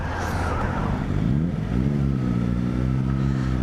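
Brand-new 2016 Suzuki GSX-S750 with 30 miles on it, engine running loud and close with a steady rev that climbs in pitch partway through.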